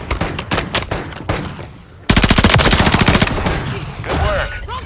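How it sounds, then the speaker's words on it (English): Video game gunfire from a Vondel match, with scattered single shots at first, then after a pause a loud sustained burst of rapid automatic fire that tapers into trailing echoes. "Where are they shooting from?"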